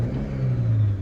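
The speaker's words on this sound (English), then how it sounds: "if I turn the radio off and give it a rev" A Renault Wind 1.2 TCE car engine revving steadily, a loud close low hum that swells slightly toward the end of a brief burst, with no voices.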